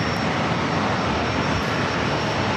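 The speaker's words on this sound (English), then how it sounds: "That was United flight coming in from Denver, an A321neo, flight 583" A United Airbus A321neo jet airliner at San Diego airport gives a steady, loud broadband roar with no break, the engine noise filling every moment and no voices over it.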